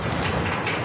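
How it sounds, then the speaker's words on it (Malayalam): A train arrives in a video game with a continuous rolling rumble and rail noise, steady and fairly loud for a brief moment. "ട്രെയിൻ വന്നു."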